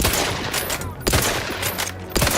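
Gunfire in the video game The Outer Worlds 2: loud, close bursts of rapid shots with a few sharper individual cracks, in an irregular rhythm and with no talking.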